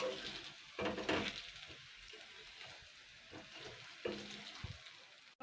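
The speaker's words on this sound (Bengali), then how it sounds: "তো আমি এইভাবে কিন্তু আর সবগুলোই ভেজে নেব" Yardlong bean pakoras frying over medium heat and turned with a spatula: a soft, low bubbling sizzle with a few brief scraping bursts near the start and again later, no talking.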